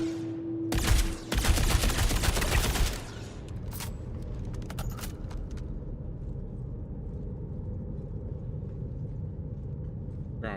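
Grenades thrown and exploding in a video game shooter: a dense burst of loud blasts and gunfire-like cracks in the first few seconds, then a steady low rumble of background game noise with a few faint scattered pops.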